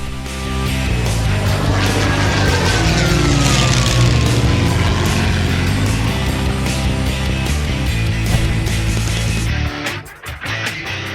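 A microlight aircraft engine drones loud and close as it taxis from the hangars toward the apron at Maryborough airfield. The steady tone holds for about ten seconds, then breaks up and shifts near the end.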